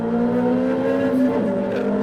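Ferrari 360 with a 6-speed gearbox accelerating hard on the Nürburgring Nordschleife, its engine note loud and close, steady harmonics rising and shifting through a gear change with no talk.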